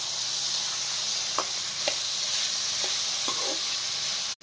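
Cauliflower pieces shallow-frying in a pan give a steady, fairly quiet sizzle and hiss throughout, with a few soft pops and stirring scrapes breaking through.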